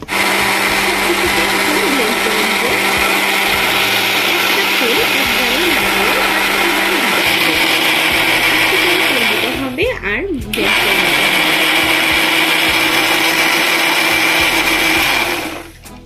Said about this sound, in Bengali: আর 10 মিনিট ব্লেন্ড করার পরে দেখবেন মেয়োনিজটা তৈরি হয়ে গেছে।